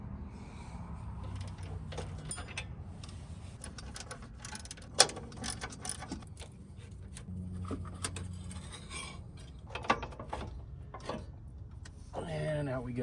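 Ratchet clicks and metallic clanks come from unbolting a control arm and coil spring on a suspension with a broken King shock, heard as intermittent sharp mechanical bursts against a steady low workshop hum.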